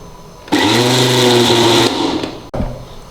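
An electric kitchen machine churning cold cream with water for homemade desi ghee, whirring loudly and steadily for over a second before winding down and restarting briefly, close by.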